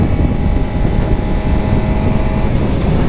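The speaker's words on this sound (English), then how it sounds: "I'd never rev my bike up at stop signs, but right there I did." A Suzuki GSX-R 600 motorcycle with a stock exhaust revs hard at a stop sign, a loud, continuous engine roar with wind buffeting, no speech.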